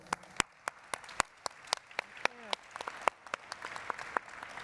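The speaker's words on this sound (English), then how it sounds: "Let's give a big round of applause to our panelists." Audience applause at a geospatial intelligence symposium, with sharp, scattered individual claps ringing out over a steady low patter of crowd clapping that continues for several seconds.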